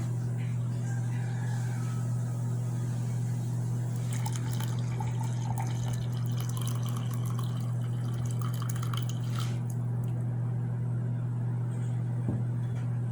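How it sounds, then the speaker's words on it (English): Hot water pours and trickles into a cup in the middle stretch, splashing close by, over a steady low electrical hum that persists throughout. "I'm just going to simply add some hot water."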